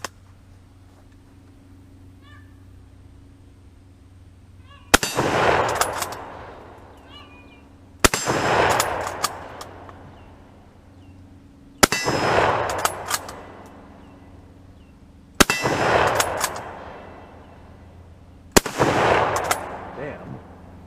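Five sharp rifle reports from a Kar98K 8mm Mauser firing steel-core rounds at a steel target at night ring out one by one, about three seconds apart, each cracking loudly and trailing off in a rolling echo over a quiet background.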